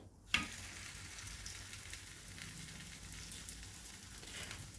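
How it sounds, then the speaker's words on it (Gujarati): A cabbage paratha sizzles and fries in oil on a hot iron griddle, a sharp burst as it lands followed by a steady, even crackle that continues alone. "તો સૌથી પહેલાં થોડું તેલ લગાવીએ, જેથી આપણું પેલું પરાઠું લોઢી ઉપર ચોંટી ના જાય। પરાઠું મૂકીએ।"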